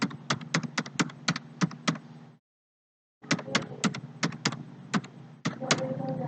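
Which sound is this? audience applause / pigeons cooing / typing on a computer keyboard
typing on a computer keyboard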